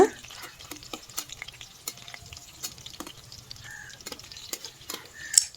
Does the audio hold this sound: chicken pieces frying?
yes